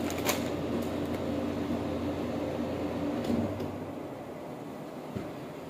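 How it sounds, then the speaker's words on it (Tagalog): A noisy household air conditioner runs with a steady droning hum and rattle that drops away near the end, leaving a faint quieter background. "Maingay yung aircon."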